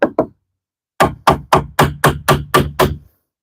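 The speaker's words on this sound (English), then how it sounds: "Let's see if we can hammer something in," Hammer blows during outdoor construction of a building: two quick strikes, a pause, then a steady run of eight evenly spaced, loud, close impacts, each with a short ringing tail.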